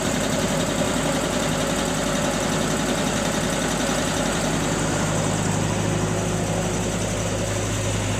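A Multipro SDG 30000 JL genset engine runs steadily, with a constant dense low drone and broadband mechanical noise that hold unchanged throughout.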